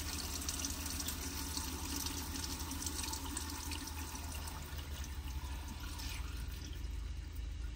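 A steady, even rush of running water pours from an RV faucet at low pressure, continuous and unbroken throughout with no voices.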